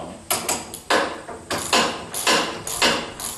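A wrench loosens the nut on a car's front shock absorber, giving a series of sharp, ratcheting metallic bursts in an uneven rhythm, close and fairly loud, with no talking.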